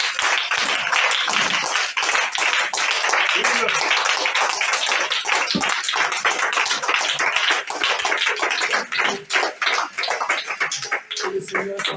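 A church congregation claps together loudly and close for a long stretch of dense, overlapping applause. Scattered voices call out through it, and the clapping thins into uneven bursts toward the end.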